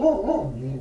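Dog barking indoors, a single loud, close bark that trails off quickly, with no one talking.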